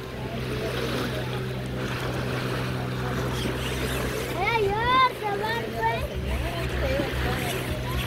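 Motorboat engine droning steadily on a lake in Guatemala, with wind and water wash around it and people talking and calling out over the motor, including a brief whistle-like burst midway.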